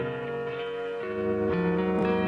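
Steady, loud harmonic music with an After Effects filter sweeping out, the tone shifting gradually over a couple of seconds with no speech.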